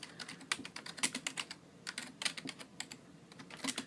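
Quick, steady typing on a computer keyboard in a quiet room, close and soft, with a continuous patter of individual key clicks and no talking.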